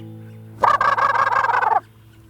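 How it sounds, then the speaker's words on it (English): A wild turkey in the woods gobbles in the distance in one rapid rattling burst lasting about a second, standing out clearly over a low steady hum. "more often than not, a few distant gobbles will let you know if you've picked the right area"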